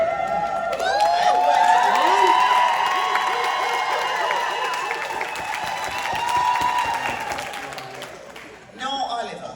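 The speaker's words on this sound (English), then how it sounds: "the kind of applause he gets every time his name is called" An audience at a Jamaica 60 launch reception in the southern USA breaks into sustained applause and cheering, a loud, dense crowd swell that holds for several seconds before tapering off, with a brief renewed burst near the end.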